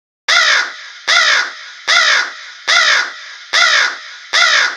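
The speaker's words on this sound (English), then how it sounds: "A crow!" A crow caws six times in a steady, evenly spaced series, each call loud, harsh and close, with short silent gaps between them.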